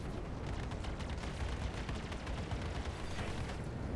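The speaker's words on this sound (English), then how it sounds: "Let's just pop off a missile because I can." A missile launches in the space-combat game Star Citizen amid a dense, loud barrage of rumbling blasts and rapid mechanical firing, continuous and heavy throughout.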